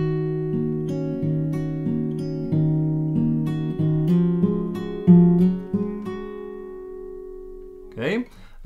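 Fingerpicked acoustic guitar playing the opening of a song, thumb and fingers alternating strings in a steady arpeggiated pattern, close and clear, ending in a ringing chord and a brief scrape.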